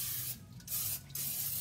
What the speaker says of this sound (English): So now they say to spray your pan.